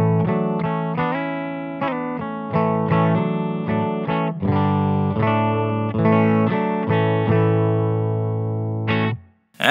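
A distorted electric guitar plays a string of chords and single notes through an Idiotbox 3D Triple Delay pedal, a Lockhorn Instrument Zinger and a Silktone amp, loud and steady, ending abruptly in near silence.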